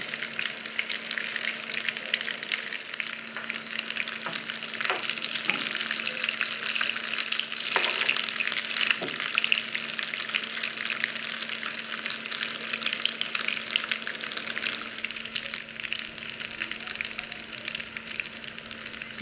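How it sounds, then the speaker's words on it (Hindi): Potato tikki patties fry steadily in oil, a continuous bright sizzle with a few soft stirring or turning knocks, close and fairly loud with no one speaking. "ये देखें अभी ये फ्राई हो गए हैं"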